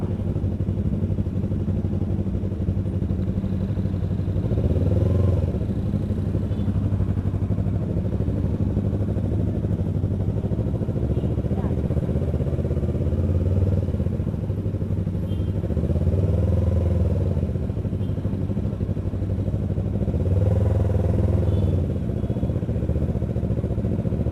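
Motorcycles sit in a slow traffic jam on an Indonesian touring route, engines idling in a steady low rumble with occasional swells as bikes nearby rev and creep forward, close and continuous with no talk.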